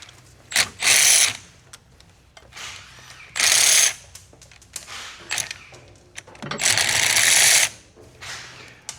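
A ratchet wrench removes bolts from a Nissan 370Z axle at the differential, three bursts of rapid, loud metallic clicking separated by quieter handling noises.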